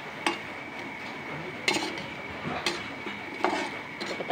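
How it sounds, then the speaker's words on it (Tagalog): Karioka rice balls frying and being rolled around in hot oil, with a steady sizzle broken by several sharp clinks and scrapes of a utensil against the pan. "Tapos prituhin, pinapagulong-gulong ko sa mantika"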